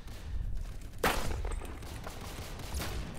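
Gunfire in the Roblox shooter game Phantom Forces: one sharp, loud shot cracks about a second in, followed by fainter scattered shots and a low rumble.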